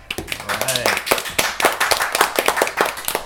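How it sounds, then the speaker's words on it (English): Clapping for a group of kids, sharp close claps in a quick uneven rhythm from a small audience, mixed with voices talking and calling out over the top. "Can I get a big round of applause for yourselves?"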